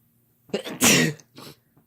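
A single person's sneeze, loud and close, with a short breathy intake, a sharp burst and a smaller trailing burst, heard alone without talk.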